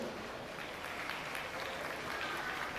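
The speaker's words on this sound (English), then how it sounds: "Let's have a round of applause for our judge." Steady applause from an audience at a youth fair livestock show, a continuous wash of clapping honoring the judge, moderately loud and unbroken with no talk over it.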